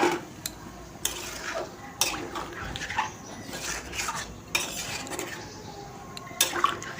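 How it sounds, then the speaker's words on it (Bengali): Water is poured into a pan of prawn and jackfruit curry for the gravy, heard as intermittent splashing and pouring bursts with clinks of a pot and utensil, close by, with no talk. "তো এই যে ঝোলের জন্য জলটা দিয়ে দিলাম।"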